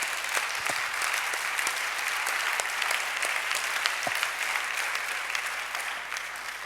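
A church congregation at a French-language worship service applauds steadily throughout, a dense, sustained clapping with a few sharper individual claps standing out.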